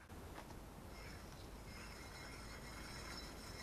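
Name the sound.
dry, rough worn PT Cruiser front wheel bearing being turned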